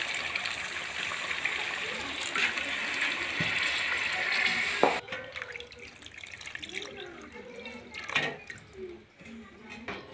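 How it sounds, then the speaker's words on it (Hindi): Water is poured into browned chicken in a pot while cooking, a steady rushing hiss of pouring and sizzling that stops abruptly, followed by quieter bubbling and faint drips with voices in the background. "अब डाल रहे हैं पानी"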